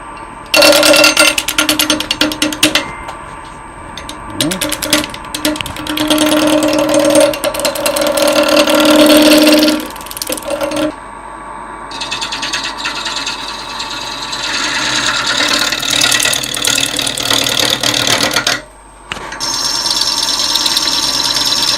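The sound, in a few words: wood lathe spinning a workpiece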